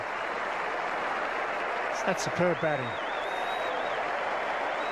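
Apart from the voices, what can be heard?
cricket crowd applauding at the MCG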